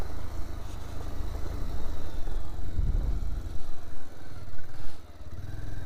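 A motorcycle engine runs close by, a steady rough low rumble with slight clatter that swells briefly near the end.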